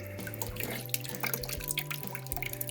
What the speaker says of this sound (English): I just got it draining into a bucket.